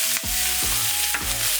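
Red and green onions fried in a pan and stirred, a close sizzle broken by several quick scraping spoon strokes, with no voices.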